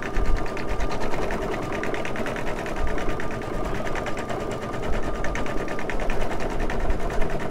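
An embroidery machine stitches cowboy boots for a 12-inch fashion doll, running with a steady fast mechanical chatter that continues loud and unbroken from start to finish.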